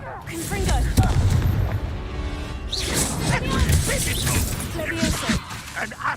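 A Confringo fire-blast spell in Hogwarts Legacy, combat booms and crashing impacts with whooshes in a busy battle mix, dense and loud throughout, with voices talking over the fighting.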